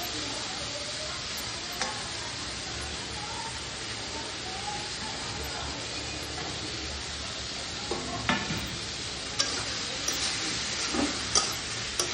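Fish coated with salt and turmeric sizzles steadily in a pan throughout, with a few sharper pops and spatters toward the end; no one talks.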